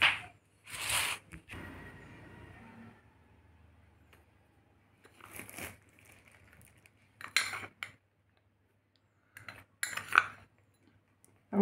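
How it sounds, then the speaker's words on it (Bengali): A spoon scrapes and clinks against a bowl while a gram flour, rice flour and cornflour batter is mixed for begun bhaja. The strokes come in separate short bursts with quiet gaps between them, close up, and nobody speaks. "প্রথমে ব্যাটারটাকে গুলে নেব।"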